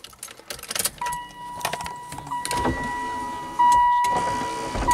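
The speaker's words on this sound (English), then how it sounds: "You hear a little rattle from that sash guide" Car power window motor whirring as the glass travels in a Silhouette, with a light rattle from the sash guide, clicks and clunks around the run and a firm stop at the end.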